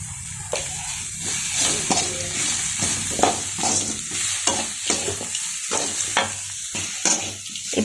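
Masala with curry leaves and turmeric for a country-chicken curry sautés in a pan: a steady, close sizzle broken by repeated scraping stirs at an uneven rhythm, with no voices.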